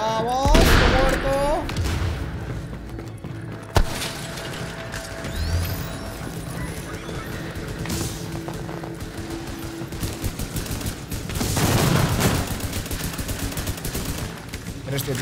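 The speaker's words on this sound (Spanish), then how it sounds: "Pero estoy disparándole a saco." Rapid gunfire rattles from a squad shooter set in a Division-style urban combat game, with mechanical clatter and bursts of automatic fire continuing steadily at close range, mixed with game sounds and occasional talk.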